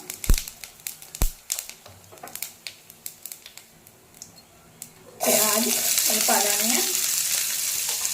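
Cumin seeds are dropped into hot oil with browned coriander. Light clicks and taps at first give way to a sudden loud, steady sizzle that continues to the end.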